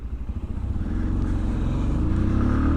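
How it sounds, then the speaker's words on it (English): A car accelerates hard and pulls away, its engine note rising steadily into a loud, sustained roar with no talking over it. "you accelerate off in a hurry"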